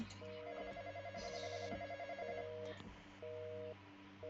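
A telephone rings inside a Roblox game, a steady electronic ringing pattern of repeated tonal bursts that plays close and loud over a low background hum, pausing briefly before starting again.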